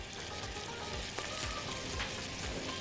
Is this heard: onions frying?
yes